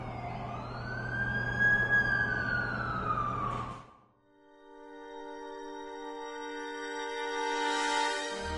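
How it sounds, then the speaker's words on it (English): Ambulance siren in the Amazing Spider-Man 2 video game, a loud wailing rise and fall that cuts off midway, followed by sustained steady electronic tones. "That's the ambulance I called."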